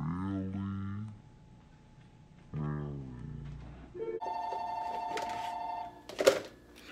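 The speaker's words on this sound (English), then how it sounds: "And the phone interrupt." An indoor telephone rings with two bursts of electronic tones near the end, after someone talks in a kitchen during home cooking.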